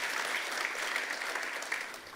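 Quiet, brief applause from a church congregation during a sermon, a soft steady patter of many hands heard at a distance for about two seconds.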